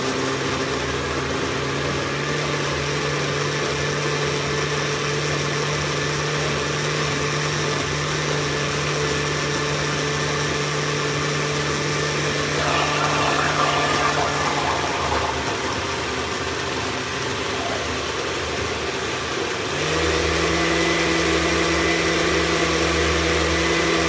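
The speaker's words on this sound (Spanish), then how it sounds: "Vamos a licuar nuestras habichuelas." A blender purees cooked beans for a sweet bean dessert, giving a steady motor whir and churn for about twenty seconds that shifts pitch near the end, loud and close with no talking.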